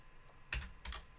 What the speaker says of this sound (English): I do that by typing chmod